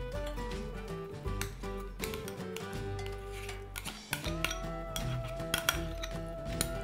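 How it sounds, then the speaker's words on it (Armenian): Sour cream is spooned into a pan of snail pasta with repeated clinks and scrapes of a utensil against cookware, close and busy, over a steady tonal background. "Հիմա ավելացնում եմ թթվասերը։"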